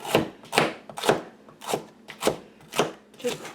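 Vegetables chopped on a cutting board with a knife in seven firm, close chops at a steady, slightly uneven rhythm, each a crisp crunch followed by a brief knock on the board.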